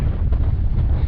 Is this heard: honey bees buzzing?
no